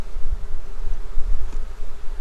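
Loud, close buzzing of bees swarming during a hive inspection, a dense fluttering drone with small swells in loudness, heard alone without talk.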